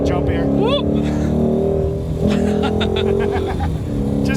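A Shelby GT350 engine revs hard as the car launches over a jump on a track, the pitch climbing sharply then settling into a steady roar, with someone talking over it.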